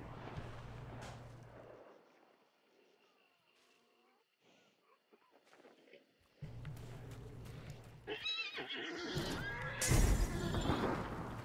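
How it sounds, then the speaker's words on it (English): A horse whinnies in a game soundscape, its shrill neigh rising amid hoof clatter and other effects, with quiet stretches between louder bursts. "I heard the horse to the north"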